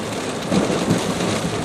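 Steady heavy rain pours down in Doha, Qatar, in a dense, continuous hiss, with a couple of low rumbling swells partway through.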